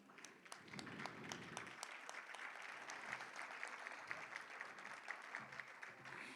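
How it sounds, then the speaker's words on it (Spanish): Audience at a law faculty conference applauds a guest speaker with continuous, even clapping, faint and distant, with a low murmur underneath. "Les pido un aplauso, por favor."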